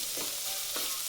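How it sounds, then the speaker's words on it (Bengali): Onions stir and fry in a pan for a chicken and potato kosa curry, a continuous close sizzle with two brief scraping swishes of the spoon. "পেঁয়াজকে এইভাবে এখন আমি নাড়তে থাকবো"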